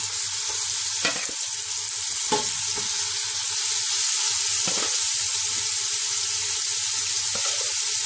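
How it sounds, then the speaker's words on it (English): Prawns fry in hot oil for a restaurant-style prawn biryani, giving a steady close sizzle and crackle with occasional louder pops and stirring scrapes, no voices. "don't add all the shrimps in oil, because it has to nicely fry all the sides of the prawn"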